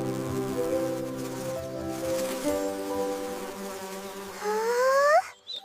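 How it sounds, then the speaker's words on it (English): A cartoon bee buzzes steadily and close, its whine wavering before rising sharply in pitch and cutting off abruptly, with no talking. "Excuse me, Mr. Bee."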